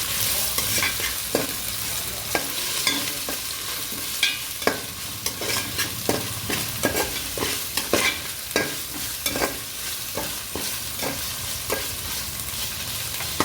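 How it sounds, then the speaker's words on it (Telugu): Ginger garlic paste frying in a pan for khichdi: a steady close sizzle runs throughout, broken by repeated sharp scraping taps of a spoon stirring against the pan, with no talk. "అల్లం వెల్లుల్లి పేస్ట్ వేసి ఒక 5 నిమిషాలు అయితే బాగా మగ్గనిద్దామండి"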